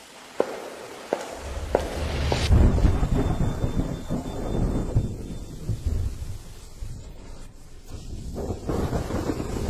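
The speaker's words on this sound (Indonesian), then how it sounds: "Tidak bisa berjalan di hujan deras begini." Heavy rain pours steadily with rolling thunder, including a loud clap early on and low rumbles continuing throughout, with some wind buffeting the microphone and occasional footsteps.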